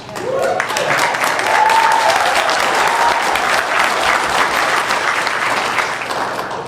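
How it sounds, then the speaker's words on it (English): Dense, loud audience clapping fills a hall at a coaching event, sustained and even throughout with a brief voice or whistle rising above it early on. "So when you clap today,"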